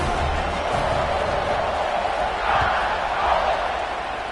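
A football stadium crowd at Arkansas versus Alabama roars steadily around kickoff, a broad, dense wash of cheering that swells slightly partway through without any distinct voice standing out.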